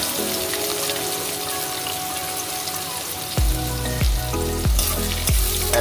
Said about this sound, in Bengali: এবার এটা নেড়ে চেড়ে ভেজে নিলাম।